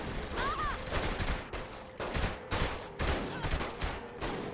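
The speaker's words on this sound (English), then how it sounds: "Me shooting this man in the head." Gunfire in the Saints Row 3 Remastered video game, bursts of loud repeated shots in several clusters with echoing tails, under brief voices.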